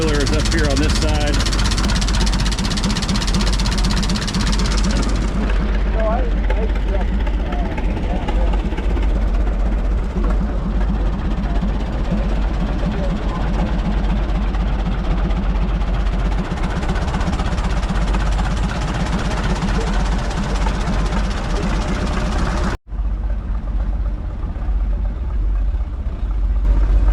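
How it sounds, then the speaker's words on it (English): A big two-cylinder Fairbanks Morse stationary engine runs steadily at an old-fashioned threshing bee, a loud continuous low chugging throb that holds throughout with a brief cut near the end. "Like a 2-cylinder Fairbanks Morse, big stationary engine."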